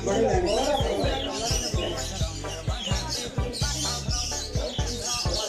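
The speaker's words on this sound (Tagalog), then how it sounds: "Daming ibon oh." Many small caged birds at an outdoor bird market in Wakra Souq chirp and tweet in dense, overlapping calls close by, while people talk nearby.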